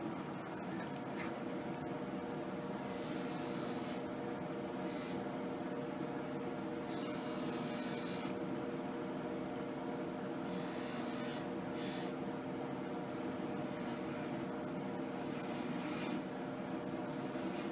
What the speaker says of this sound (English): We got to turn our polishing machine on.